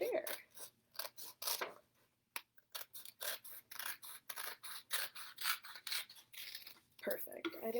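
Scissors snip through paper being cut for origami boats and lanterns, a steady run of close, crisp cuts in quick rhythm with short pauses between strokes.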